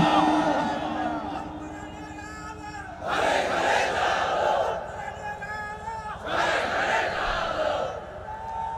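A large crowd at a Bengali Islamic sermon gathering shouts takbir back to the preacher in two loud, unified roaring waves, echoing in an open outdoor setting with amplified hum between.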